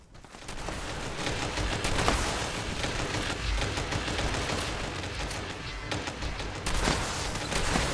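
Continuous rapid gunfire from shooting at waves of enemies in Fallout 76, dense overlapping automatic shots with occasional heavier booms, steady and loud throughout.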